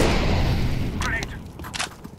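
A grenade goes off in an online first-person shooter game: a deep, heavy boom at the start that rumbles and fades over about two seconds, with brief voice chat cutting in near the end.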